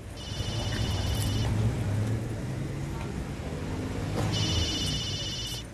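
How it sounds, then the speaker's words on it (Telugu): A mobile phone rings from inside a jacket pocket, two bursts of a bright electronic ringtone about three seconds apart, heard over steady traffic rumble with muffled voices in the background. "ఒకసారి చూడు నా జాకెట్ లెఫ్ట్ పాకెట్ లో ఫోన్ మోగుతుంది"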